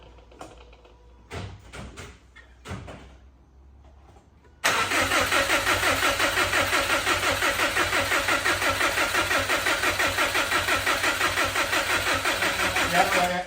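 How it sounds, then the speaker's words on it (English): A non-running Subaru WRX Impreza's starter motor cranks the engine with a rapid, steady whirring rhythm after a few quieter knocks and clicks, continuing loudly and evenly without catching. "At least it doesn't sound very knocky when it's just the starter motor turning."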